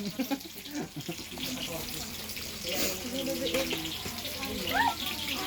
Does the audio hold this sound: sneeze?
no